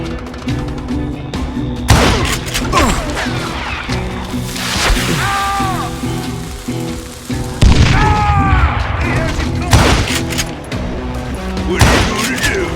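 Gunfire in Call of Juarez: Gunslinger, several loud booming shots spaced through a shootout amid game music and effects, with a shouting voice between the blasts.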